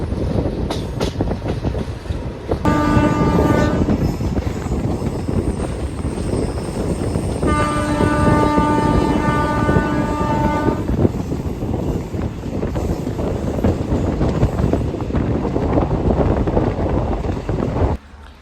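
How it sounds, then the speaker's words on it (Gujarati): A Rajkot–Veraval passenger train departing, with loud continuous rumble of running wheels and two long sustained horn blasts, the first briefly near the start and a longer one mid-way, no talk. "બે ટ્રેનને એક સાથે ડિપાર્ચર મળ્યું છે ભાઈ સાહેબ."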